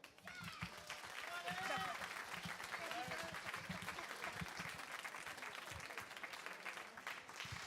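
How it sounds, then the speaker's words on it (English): An audience breaks into sustained applause after a martial arts demonstration, a dense steady wash of clapping from a crowd, with scattered voices mixed in. "Jack Griffiths, Methods, round of applause."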